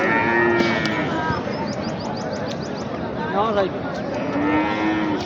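Cattle low repeatedly at a busy cattle market where Sahiwal bulls are being sold, with moos rising over a steady crowd babble and people talking nearby.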